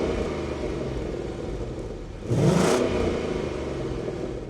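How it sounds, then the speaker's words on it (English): A Ford Mustang starts up in quiet exhaust mode, giving a brief rising rev that swells then settles into a low, steady idle rumble, subdued and close by. "you can actually do a quiet exhaust mode."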